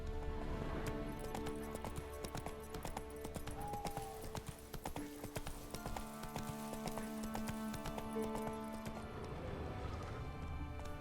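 Roach, a horse in The Witcher 3 video game, gallops with a steady run of clip-clop hoofbeats over a layered music score, with a brief whinny-like tone partway through.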